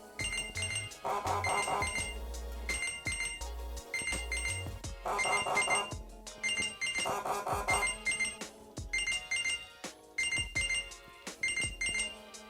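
A Galaxy Watch Active2 plays its find-my-watch alert, a bright repeating electronic ringing pattern in regular loud bursts that continues steadily and close by with no speech.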